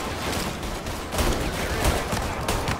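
Gunfire in Mafia Definitive Edition, a crackling fusillade of rapid overlapping shots with repeated bursts across a continuous busy barrage, loud and close, with no talking over it.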